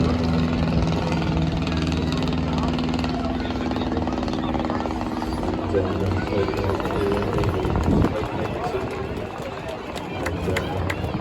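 A Royal Aircraft Factory S.E.5a biplane engine drones steadily during an air display at the Scottish Ayr Show, a continuous rough rumble under a commentator's voice and crowd murmur, with a brief swell midway.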